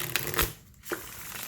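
A tarot card deck on old Llewellyn cardstock is handled and shuffled nearby, giving brief papery riffling bursts around a short quiet gap.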